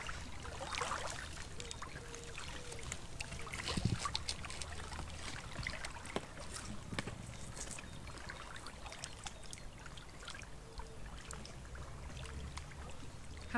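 Gentle water laps at the lakeshore of the Griebnitzsee in Potsdam, a soft, irregular sloshing and trickling close by that stays quiet and steady, with faint bird calls and outdoor ambience mixed in.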